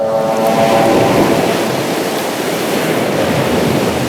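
Huge ocean surf breaks in a steady, loud roar of crashing whitewater and rushing spray, wind buffeting the microphone throughout, with no voices.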